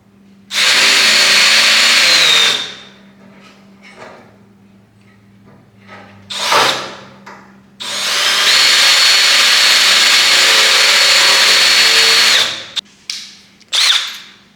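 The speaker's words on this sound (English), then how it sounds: "we're going to drill a hole through there big enough" A power drill whines loudly in two long bursts through the sheet-metal fender of a 1967 Camaro, with short revving pulses between and after them.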